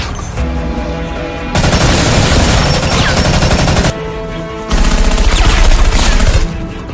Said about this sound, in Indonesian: kepada Long Fei dan Susan, tiba-tiba dan baku tembak pun terjadi